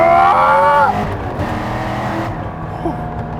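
A Pratt & Miller Corvette C6RS with an 8.2 liter all-aluminum V8 accelerates hard, its rising engine note loud at first and then settling into a steady roar, with a faint tire noise in the mix.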